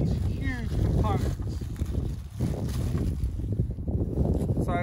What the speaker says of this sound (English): The wind's coming up now.